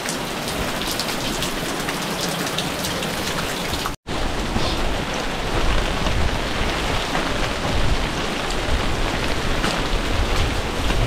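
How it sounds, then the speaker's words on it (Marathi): Dense, steady rainfall at Bhaskargad fort patters loudly throughout, briefly cutting out once before continuing unchanged, with a faint low rumble beneath. "पाऊस आलाय, आपण थोडा वेळ थांबूया असं वाटतंय."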